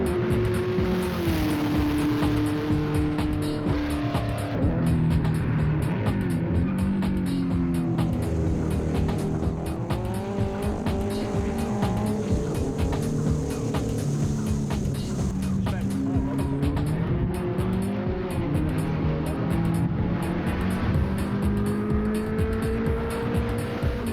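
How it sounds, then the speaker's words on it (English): A 230-horsepower Volkswagen Beetle race car roars and revs hard through gear changes, engine pitch climbing and dropping repeatedly with tire squeal, loud and sustained. "Darren brought his 230 horsepower Beetle down from Whangarei,"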